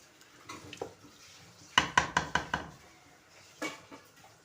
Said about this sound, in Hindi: अब इसमें हम डाल देंगे ये हरी मिर्चें जो हमने काट के रखी हुई थी